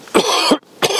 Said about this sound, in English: I don't know why I've started coughing